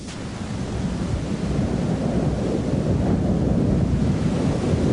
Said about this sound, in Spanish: Esta es la cortina de agua más grande del mundo, extendiéndose a lo largo de casi 2 kilómetros